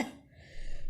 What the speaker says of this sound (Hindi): दादाजी को तो इस हवन के धुएं से खांसी हो रही है।